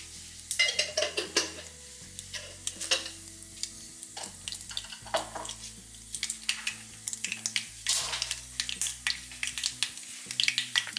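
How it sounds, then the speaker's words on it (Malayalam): Mustard seeds splutter in hot coconut oil while tempering a taro (chembu) curry, giving close, busy crackles and sharp pops scattered over a steady sizzle with no talking. "കടുക് പൊട്ടിയിട്ടുണ്ട്."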